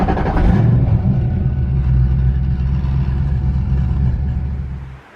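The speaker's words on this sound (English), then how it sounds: "figured I'll let the car idle so you guys can hear this nice comp cams camshaft" A Ford 302/351 Windsor small-block V8 with a Comp Cams camshaft idles with a steady, loud, lopey rumble, close up, before the engine note fades at the end.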